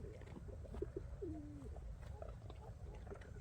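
Pigeons coo softly in a low, rolling call, repeated a few times against a steady outdoor hum.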